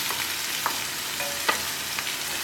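Fresh julienned beets cook in a pot for traditional pork borscht, giving a constant hissing sizzle with a couple of soft knocks from a spoon, heard alone and up close.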